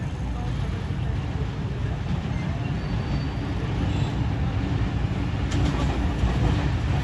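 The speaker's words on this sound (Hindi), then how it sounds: "ट्रेन आ चुकी है।" At Shahdara Bagh Junction in Pakistan, the Khyber Mail train of Pakistan Railways arrives with a heavy, continuous low rumble that stays loud and steady throughout, with faint voices mixed in beneath it.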